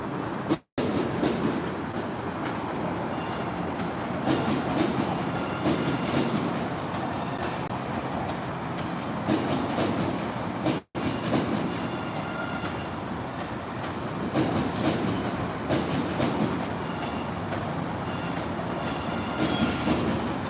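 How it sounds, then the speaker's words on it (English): A Red Line Ashmont subway train rolls past with a steady rumble and rhythmic wheel clatter. Two brief dropouts break the sound. "There goes the Ashmont train."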